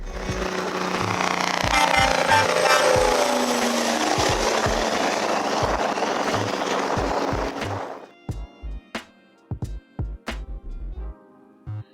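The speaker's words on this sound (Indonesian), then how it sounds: "suara yang dihasilkan dari sistem Jake brake ini pun cukup keras" A diesel truck's jake brake engine braking, with a modified exhaust: a loud, rough rattling engine roar holds steady for several seconds, then cuts off into a series of sharp, uneven knocks and clacks.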